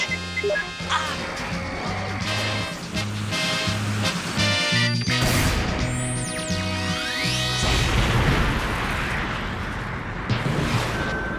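Anime tank firepower erupts in heavy explosions and booms layered over a dramatic music score, with rumbling blasts and whooshing effects building through the scene, and a voice speaks briefly.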